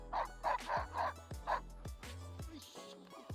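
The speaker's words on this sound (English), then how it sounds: "So next up, we have Rico, one of our executive dogs" A protection-trained executive dog barks in a series of sharp, loud, close woofs and yips, roughly evenly spaced, with a brief whimpering tone near the end.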